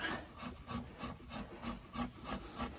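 Timber being scraped out by hand on a small timber-frame project, about ten rhythmic rasping strokes in quick succession, close and fairly quiet, with no voices.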